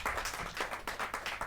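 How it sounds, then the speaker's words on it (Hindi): Audience applause at a Hindi kavi sammelan poetry gathering, a brief, fairly quiet burst of clapping with distinct rhythmic claps standing out from the crowd. "रमा त्यागी जी गाजियाबाद से, जोरदार ताली के साथ।"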